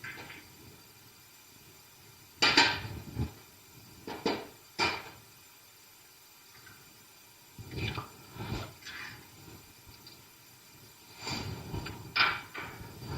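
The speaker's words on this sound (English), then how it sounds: "the proper way to crack an egg is to strike it firmly on the edge of the bowl and then push up" Eggs struck firmly on the edge of a bowl while making scrambled eggs: a few faint, sharp taps and cracks in separate clusters, with quiet pauses between them.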